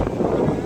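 Strong wind blowing outdoors in Christchurch, a steady broadband rush buffeting the microphone close up, loud and continuous throughout.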